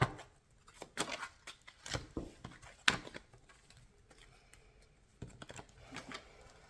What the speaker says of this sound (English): Shuffle them up real quick.